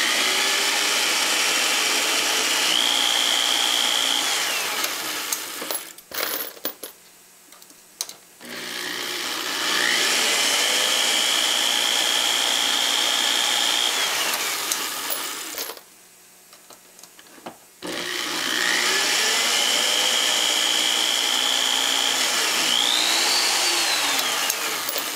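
Geared drill motor spinning a trimmer on 5.56/.223 brass cases, heard as three long whirring runs that wind up, hold a steady pitch and spin down, separated by quiet pauses.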